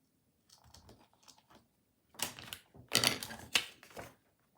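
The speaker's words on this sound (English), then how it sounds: "And now I'm going to cut off the excess." Scissors snip away excess paper while a Valentine card is made. A few faint cuts come first, then a louder cluster of crisp, close crunching snips.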